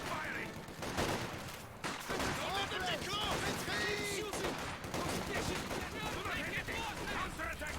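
War-game battle with sustained gunfire, rapid machine-gun bursts and scattered shots crackling under shouted voices and game chatter, loud and continuous throughout.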